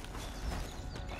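Faint, steady clip-clop of a horse's hooves plodding at a walking pace in the video game Red Dead Redemption 2, muffled and low in level.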